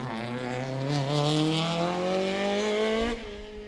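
A Peugeot 205 rally car engine roars past at high revs on the Mull Rally, its pitch sliding downward as it goes by, loud and close before cutting off.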